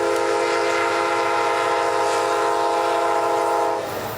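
Union Pacific train horn blaring at a crossing, a loud steady multi-tone blast held for about four seconds before starting to fade, with no talking.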